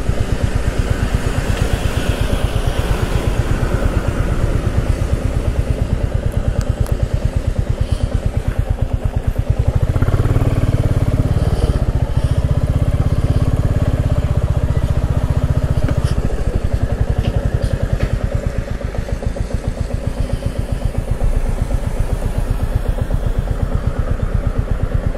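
Motorcycle engine running on a bike trip from Kolkata to Bhutan, a steady mid-pitched throb with a rhythmic clatter that swells briefly louder midway, continuous and fairly close throughout.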